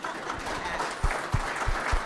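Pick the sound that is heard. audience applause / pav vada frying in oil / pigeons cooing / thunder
audience applause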